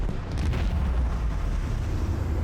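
Macro cannons firing in the video game Warhammer 40k: Rogue Trader, a deep rumbling boom that rolls on for a couple of seconds, fairly loud, with no talk.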